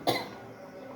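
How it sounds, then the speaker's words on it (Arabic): A single sharp cough from someone with a cold, close by in a home kitchen while oil heats in a pan, followed by a quiet background. "عشان عندي بس شويه كحه من البرد"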